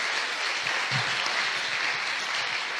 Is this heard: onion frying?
no